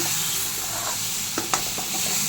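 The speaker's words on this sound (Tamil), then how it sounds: "முருங்கால நல்லா பரட்டி விடுங்க" Moringa drumsticks fry in oil with chili powder in a pan for a spicy thokku, giving a steady close sizzle broken by a couple of sharp stirring scrapes.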